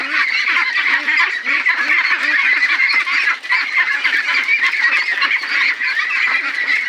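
A crowded flock of domestic ducks on a farm calls together in a dense, continuous chorus of honking quacks that stays loud and close with no pauses.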